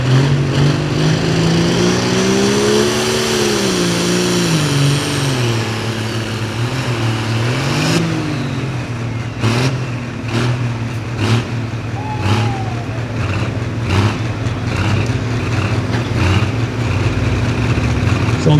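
A pro limited farm tractor roars at a tractor pull, its engine loud and close, pitch rising and falling as it works under load, then going ragged with sharp bangs and pops in the later part of the run.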